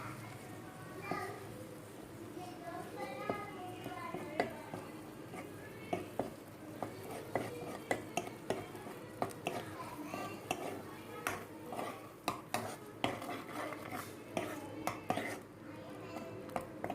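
Capsicum, onion and masala paste are stirred and sautéed in a kadai, with frequent spoon scrapes and clinks against the pan over a soft sizzle, while a voice talks throughout.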